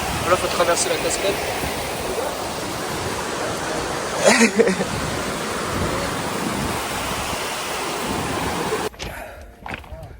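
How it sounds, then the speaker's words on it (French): A mountain waterfall on a trail in the Pyrenees near the Brèche de Roland roars as a loud, constant broadband rush, with a brief clatter midway before the noise drops away near the end. "Là, faut traverser la cascade."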